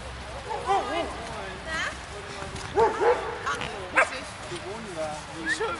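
A group of dogs that meets on weekends barks and yips in overlapping bursts, with whines and high yelps scattered through, several dogs close by and fairly loud.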